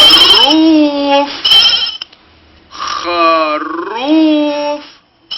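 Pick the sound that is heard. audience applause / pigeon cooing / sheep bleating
sheep bleating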